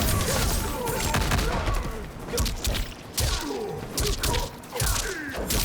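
Sektor's double missile attack in the Mortal Kombat fighting game, a dense, loud barrage of rapid blasts, thuds and crashes with scattered impacts running throughout, with no voices.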